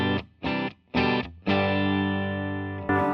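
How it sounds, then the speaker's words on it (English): An electric guitar runs from a Fender Nashville B-Bender Telecaster with Lawler pickups into a Fender Deluxe Reverb '68 reissue, mic'd with an Onyx i5. It plays three short chopped chords, then one long ringing chord that slowly decays, with a last strum at the end. "here's my clean tone, my Fender Nashville B-Bender Telly with Lawler pickups going into my Fender Deluxe Reverb 68 reissue"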